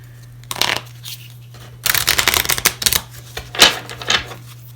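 A deck of cards shuffled close by, a quick riffle followed by a longer burst of rapid fluttering snaps and a few final taps, with a low steady hum beneath and no talk.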